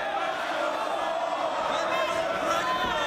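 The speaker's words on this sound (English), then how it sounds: "The fans cheering for Lance Storm" A wrestling arena crowd cheers for Lance Storm, a steady wash of voices and shouts at even loudness, heard as a broad distant roar without clear peaks.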